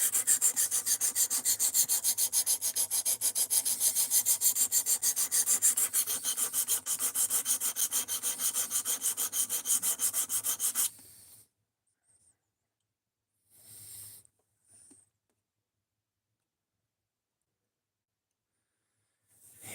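D2 steel knife blade being sharpened on a stone, a dense run of quick rhythmic rasping strokes for about eleven seconds, then stopping, with a few faint scrapes afterward.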